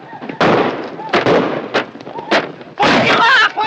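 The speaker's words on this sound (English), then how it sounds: "don't shoot across the wagons" Gunfire crackles in a western movie battle around a wagon train, several loud bursts and volleys in uneven succession, with shouting voices between them.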